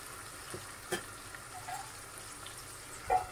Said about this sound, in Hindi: तब तक इसको हम तेल में ऐसे ही चलाते हैं